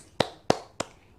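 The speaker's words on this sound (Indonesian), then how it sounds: "tepuk tangan Yesus" Three sharp, evenly spaced claps ring out close and loud in a Sunday school children's clapping game, each a crisp isolated smack followed by brief quiet.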